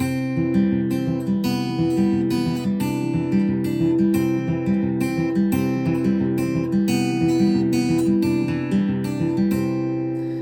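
Acoustic guitar fingerpicked in a steady Travis pattern, an alternating bass under treble notes, rolling through a few chords at an even tempo, close and clear.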